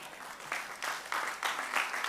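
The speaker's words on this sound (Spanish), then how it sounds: "Aplaudan y digan que sí," A church congregation at a morning service claps in rhythm, with evenly spaced bursts of many hands roughly three times a second, fairly faint and distant.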